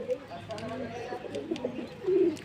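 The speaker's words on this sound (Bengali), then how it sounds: "পায়রাগুলো খাবার খাচ্ছে।" Pigeons coo softly at close range while pecking at rice grain in a pigeon house, low repeated murmuring calls over a faint background.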